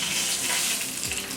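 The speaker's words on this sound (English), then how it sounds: "I'm going to finish frying the rest of my fish" Fish fries in a pot of hot oil, a dense continuous sizzle and crackle held close and loud for the whole moment, no voices.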